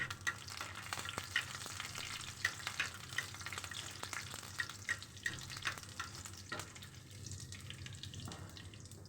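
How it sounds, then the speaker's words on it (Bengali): Garlic cloves fry in mustard oil with black cumin, giving a steady crackling sizzle with intermittent pops and light stirring, fairly quiet and close. "আর সেই সাথে আমি কিছুটা রসুনের কোয়া দিয়ে দিলাম। দিয়ে তারপরে আমি একটু হালকা করে ভেজে নিব।"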